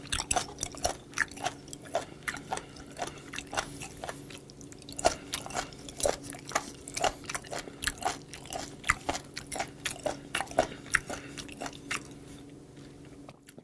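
Raw spoon worm (gaebul) being chewed up close during a mukbang, with a steady run of crisp, wet, crunchy bites and squishy mastication, repeated rhythmically without talking.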